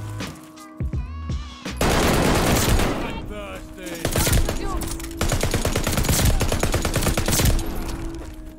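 Whitley LMG firing in Call of Duty Vanguard, loud sustained automatic bursts with rapid, even rounds and a few heavier blasts, dense and close with brief gaps between strings of fire.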